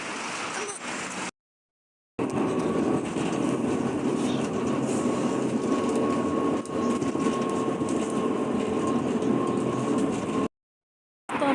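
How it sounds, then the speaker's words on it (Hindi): Tram interior noise on a ride in Warsaw, Poland: a steady loud rumble with faint wheel clatter and a sustained tonal whine, interrupted by two brief silent gaps. "देखिए दोस्तों, हम लोग सेकेंड ट्रैम में चढ़ चुके हैं।"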